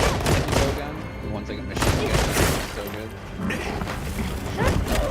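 Heavy bowgun in machine-gun mode in Monster Hunter Wilds unleashes rapid, dense bursts of gunfire with crashing impacts, loud and sustained under a talking voice.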